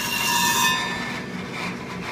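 Harsh grinding of a steel clipper blade held against a grinding wheel during sharpening, a rasping whine that is loud at first and then eases, close by, with no voices.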